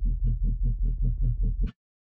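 Layered melodic dubstep synths ride over a sub bass that an LFO makes wobble. Heavy low-end throbs pulse rapidly about eight times with a buzzy upper layer, ending in a brief bright swell before a sudden cutoff into silence.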